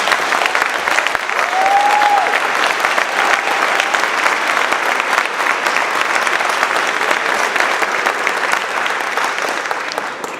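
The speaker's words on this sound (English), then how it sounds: "Ladies and gentlemen, another round of applause for our rising knight." A large audience at an eighth grade promotion ceremony applauds steadily for about ten seconds, dense sustained clapping with a brief whistle near the start.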